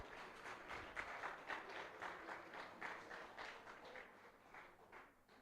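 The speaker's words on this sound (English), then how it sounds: "Let's give them another round of applause." Faint applause from an audience at a university live event for a communication and media master's program, a sustained patter of many hands clapping at a distance that slowly tapers off.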